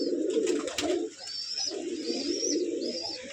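Fancy pigeons kept in a room coo in low, rolling, repeated phrases close by, with faint higher chirps in the background.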